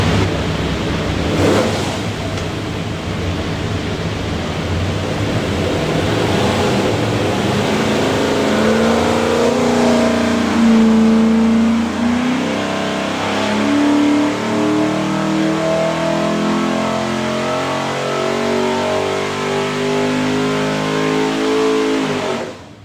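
Stack-injected 427 Ford V8 making 596 hp on a dyno, loud and close, revving up through a long rising pull with climbing engine tones before cutting off abruptly.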